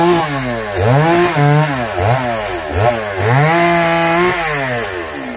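A chainsaw cutting sengon wood, loud and close, its motor whining and dipping in pitch several times as the chain bites into the log and then revs free again.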